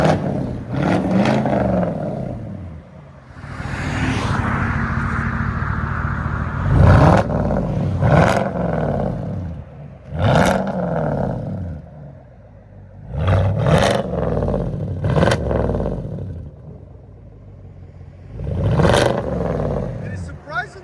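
Chevy Silverado with a 5.3L V8 and true dual exhaust, revving in repeated short bursts of rising and falling engine roar between quieter idle stretches, with a voice speaking over part of it.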